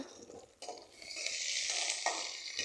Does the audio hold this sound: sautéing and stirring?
yes